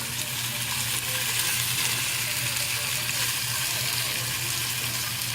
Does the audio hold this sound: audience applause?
no